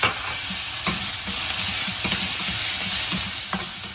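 Chopped onions and tomatoes sautéing in a pan for Chennai-style vada curry, a steady loud sizzle with the clatter of a spoon stirring now and then.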